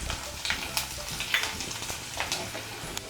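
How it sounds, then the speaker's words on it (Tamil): Vadagam crackles and sizzles in hot oil left over from earlier frying, with continuous bubbling and sharp spattering pops, close and fairly loud. "இப்போ அதே எண்ணெயிலே நம்ம வடகம் தாளிச்சிக்கலாம்"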